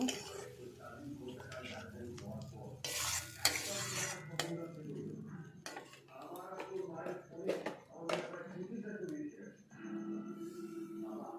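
Bhuna khichuri is stirred in a pan after a splash of water, with scraping and clattering spoon strokes heard close, under a woman's running speech.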